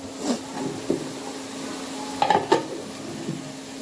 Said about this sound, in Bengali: পেঁয়াজ লঙ্কা এখানে সব ফোড়ন দিয়ে দিচ্ছি তেজপাতা তো এখন পেঁয়াজটা লাল লাল করে ভাজবো